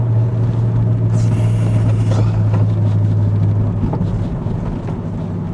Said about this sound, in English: listen to the rasp of that DTM exhaust